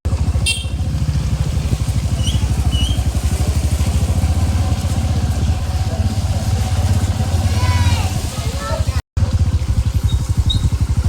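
A motorbike rides through a village on a rainy monsoon day, its engine chugging close and loud in a steady rapid pulse with brief revs, and voices talk faintly under it.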